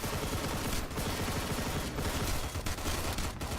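Gunfire in a video game battle: a dense, continuous wash of shooting and explosion-like noise, with a few sharper bursts standing out in the steady din.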